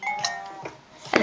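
A phone gives a short electronic chime as its speakerphone is switched off: a few bright, bell-like tones ring out, close and clear, over a soft background.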